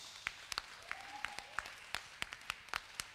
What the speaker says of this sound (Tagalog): Palakpakan ng Diyos.